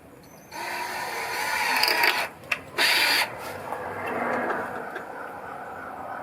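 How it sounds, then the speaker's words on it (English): A power drill drives screws into weathered, partly rotten barn wall boards. Bursts of whirring and grinding ratchet over about five seconds, with brief pauses between runs, close and fairly loud. "I'm putting screws in and they're just kind of splitting at the ends"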